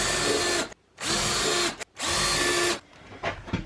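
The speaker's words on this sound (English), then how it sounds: "I'm going to go ahead and just do a quick pre-drill" A power drill pre-drilling pilot holes in a 2x4 for 3-inch screws at a workbench, running in three loud, close bursts of about a second each with short pauses, then fading to quiet handling noise.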